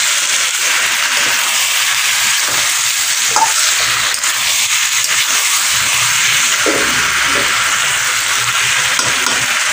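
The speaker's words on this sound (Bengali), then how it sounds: "এটাকে এখন একটু ভাজা ভাজা মতন করবো।" Potato, capsicum and tomato fry in a pan with a loud, steady sizzle and hiss, and a few faint stirring scrapes come through close up without any talking.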